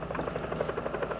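A helicopter flies overhead while police hunt a stolen white convertible on the highway, its steady rotor chop pulsing in an even rhythm, loud and continuous with no voices.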